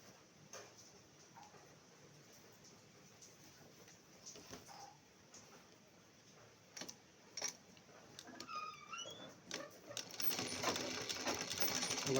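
A sewing machine stitches the leg of a churidar pant, starting as faint intermittent ticking and building into a louder, denser run of mechanical whirring and clatter toward the end.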